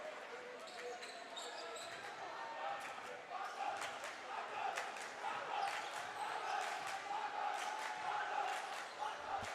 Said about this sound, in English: Students on their feet. Got chants going.